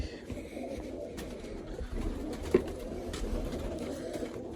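Domestic pigeons cooing in a coop, soft low repeated coos close by over a steady background, with no talk.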